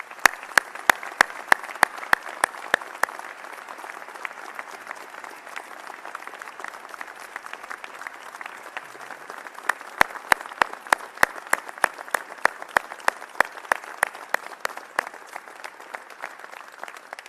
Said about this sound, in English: So let's give Brittany a round of applause, please